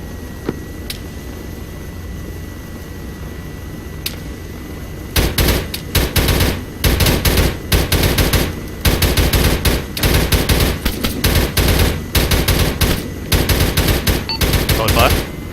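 Quiet ambience with a couple of sharp distant cracks gives way to loud, rapid bursts of machine gun fire in the military shooter Arma 3, repeated volleys stuttering on and off with short pauses between them.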